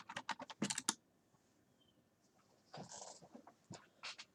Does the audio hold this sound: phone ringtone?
no